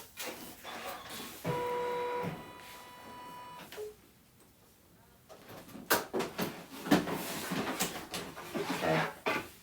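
A sewing machine stitches straps for a handmade bag, its hum rising in short bursts and pausing, followed by rustling and handling of fabric nearby; no one speaks.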